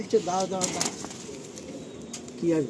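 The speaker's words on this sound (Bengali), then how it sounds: "এগুলো আন্ধ্রা পায়রা।" Andhra pigeons at a sale give low throaty coos with brief wing flaps nearby, and a voice is heard faintly in the background.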